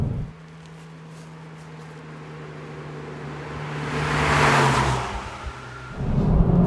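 A Mitsubishi Evo X Final Edition engine pulls hard toward its 7,000 rpm redline, its steady drone swelling to a loud peak before easing off, with no talking.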